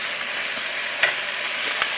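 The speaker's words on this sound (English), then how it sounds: "See how that just did the sizzle as soon as it went in." Food sizzles in a very hot pan, a steady bright hiss with two brief sharp crackles partway through and no talking.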